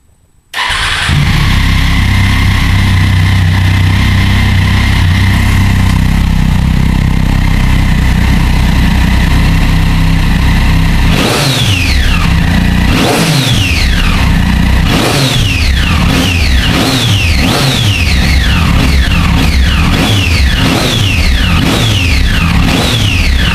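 A motorcycle engine idles loudly and steadily, then is revved repeatedly in sharp rising bursts, very close and continuous with no talking.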